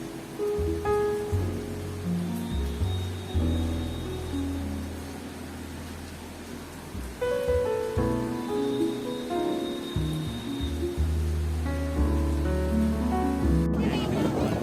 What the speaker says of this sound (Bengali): আমরা চলে এসেছি নিউ দীঘা সমুদ্র সৈকতে